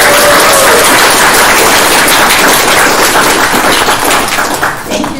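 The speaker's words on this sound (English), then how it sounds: "let's give everyone give Adrienne a round of applause." An audience at a game development talk gives a speaker a loud, dense round of applause. The clapping stays steady and close for several seconds, then begins to thin out at the very end.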